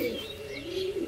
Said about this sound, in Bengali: গম ঠোঁটের মধ্যে পায়রা দেখুন কিরম ডাক করছে